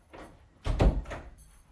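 A door swings shut with a firm thud and a short rattle of the latch, close by, followed by a fainter click, in a quiet indoor room.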